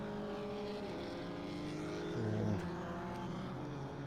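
Formula 1600 single-seater race cars at Levels Raceway in Timaru drone past at medium distance. Several engine notes overlap and shift pitch as the cars accelerate and change gear.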